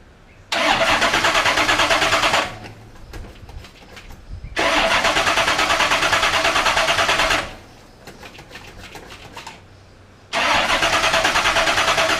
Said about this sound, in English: It's either going to run or it's going to pop, or it'll just crank and not do nothing.